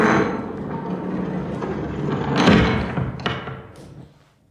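A heavy door bearing a radiation sign is opened in an old-time radio thriller, giving a run of thuds and clanks that swell to a loud heavy knock before fading into quiet, with no talk.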